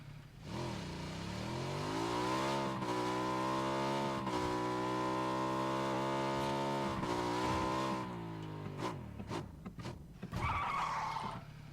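A motorcycle speeding along a road toward a water tank in PUBG on the Erangel map: a loud, sustained engine drone climbs in pitch and holds high for several seconds, then drops away into short bumps and a final skidding rev.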